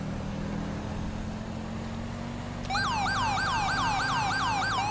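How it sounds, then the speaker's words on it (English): Police car siren in the LSPDFR police game, starting abruptly partway through as a fast, loud electronic wail that cycles steadily over a low, constant engine drone heard alone beforehand. "put on my sirens"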